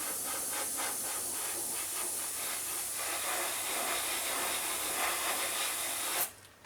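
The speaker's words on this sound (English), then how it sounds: "It's actually, oh, it's now spraying the blue." An airbrush sprays blue paint onto an Eduard 1/32 Messerschmitt Bf109E-3 model: a continuous close, airy hiss with slight pulsing that holds for about six seconds and then cuts off abruptly.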